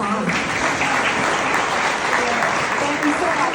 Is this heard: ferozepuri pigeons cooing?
no